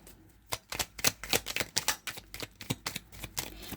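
Tarot cards are shuffled close to the microphone in quick, papery riffles and taps, roughly a dozen crisp bursts in an uneven rhythm, quiet and heard alone without talk.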